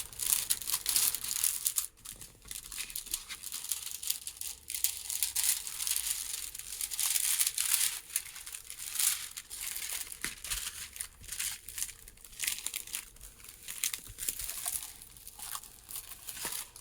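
Paper crinkling and crackling steadily for several seconds as it is lifted and pressed back down onto a non-canvas surface, close and fairly loud with uneven bursts of crunching.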